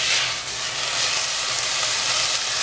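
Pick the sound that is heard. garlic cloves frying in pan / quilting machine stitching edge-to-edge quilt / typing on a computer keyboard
garlic cloves frying in pan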